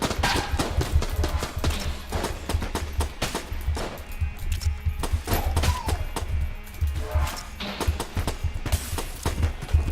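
Rapid, dense gunfire bursts from the Enter the Gungeon video game, a near-continuous barrage of shots with heavy low thumps running the whole way through, loud and without talk.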